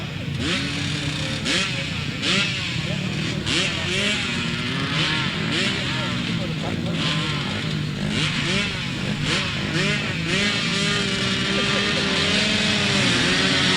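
Several 250cc grasstrack motorcycles roar off the start of a race at Ledbury, engines revving hard and overlapping in a loud, continuous snarl with rising pitch sweeps, while a commentator's voice carries over the noise.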